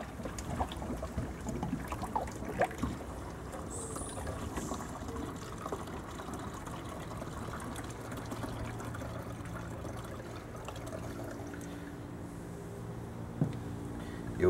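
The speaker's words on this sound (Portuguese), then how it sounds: "E para finalizar, eu coloco água, essa aqui é água de chuva" Rainwater is poured into a homemade poultry-manure biofertilizer mixture, a quiet, continuous trickling splash that runs steadily for several seconds, with faint clinks and knocks at the start and end.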